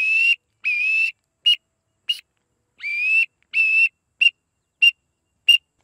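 A duck call whistle imitating a green-winged teal sounds a string of sharp, high whistled peeps, some drawn out and some clipped short, in an uneven rhythm with brief silences between, loud and clear with no talking.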